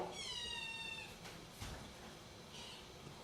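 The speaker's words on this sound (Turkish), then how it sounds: "Bu miyav." A cat lets out a drawn-out meow that rises and falls, followed by softer, shorter mews, fairly close.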